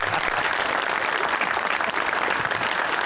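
Steady, loud applause from a studio audience on a comedy game show, clapping continuously and evenly for about three seconds with no voices over it.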